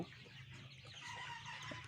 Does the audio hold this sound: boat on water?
no